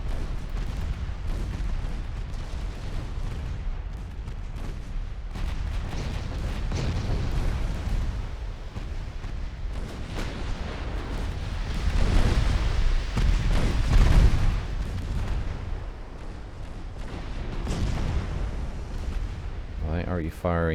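Naval gunfire from battleships firing high-explosive shells in the naval strategy game Ultimate Admiral Dreadnoughts, a steady low rumble of booms and distant impacts that swells in the middle, with someone talking over it.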